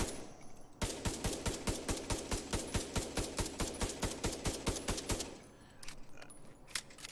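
Rapid, evenly spaced shots ring out in a steady automatic burst from a gun firing snowballs in The Division 2, loud and close, then trail off into quieter scattered noise.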